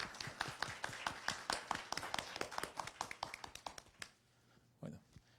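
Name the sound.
audience applause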